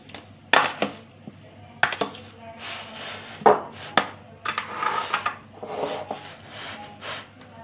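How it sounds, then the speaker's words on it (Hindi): A spoon stirs Tang mixture into a bowl of fruit chaat, making a series of uneven scraping and clinking strokes, close and fairly quiet, with short pauses between them. "ये थोड़ा सा डाल देंगे अब, और स्पून की मदद से इसको हम मिक्स कर लेंगे"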